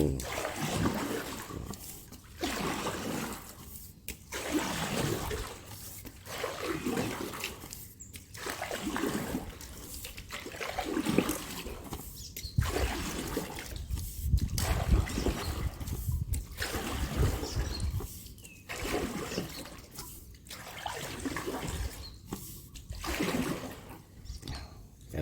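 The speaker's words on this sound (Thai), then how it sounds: "พายเรือใต้สะพาน" A small rowboat is paddled through canal water under a bridge in the morning, with steady splashing strokes about every two seconds, close and fairly loud, over a soft continuous wash of water.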